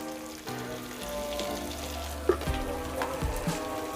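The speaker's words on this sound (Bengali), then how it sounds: "ফোড়নটা আমার ভাজা ভাজা হয়েছিল, সেই জন্য আমি থেতো করা রসুন আর পেঁয়াজ দিয়ে দিয়েছি।" Crushed garlic, onion, salt, turmeric and chilli powder fry in hot oil in a pan for a vegetable and paneer masala curry, giving a steady soft sizzle with a few brief clinks of stirring.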